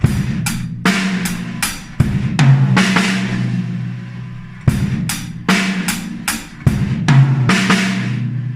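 A drum kit plays the repeating beat of a song: bass drum, snare and hi-hat hits, with a short fill between phrases, up close and without voices.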